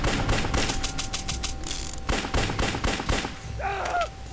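Rapid video game gunfire in Lava Mortus: bursts of close, sharp shots in quick succession with mechanical clatter, ending in a brief distorted warble.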